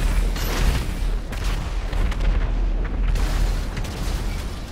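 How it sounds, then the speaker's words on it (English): Rocket explosions in GTA 5 form a dense, continuous rumble of booms and bursts, loud and close throughout with no pauses and no talking. "There's so many rockets"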